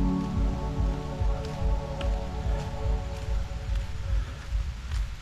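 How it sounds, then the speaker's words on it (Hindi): Soft, steady patter of light rain on surfaces in Dumna Nature Park, Jabalpur, with a low continuous hum underneath and occasional sharper drips. "हल्की हल्की बारिश भी शुरू हो गई है"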